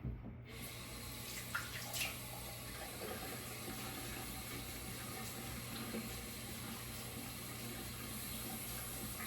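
Water runs steadily from a tap into a sink, a continuous gushing hiss with a few faint splashes as hands move through it.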